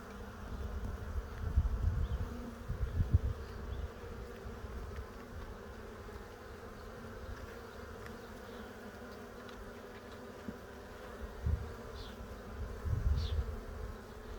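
Honeybees drawing out fresh comb hum steadily during a hive inspection, a dense close buzz with occasional louder passes near the listener.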